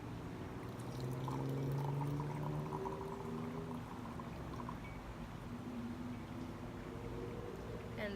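Hot water is poured gently over Wuyi oolong tea leaves, making a quiet, close, rising gurgle with a steady trickle over several seconds.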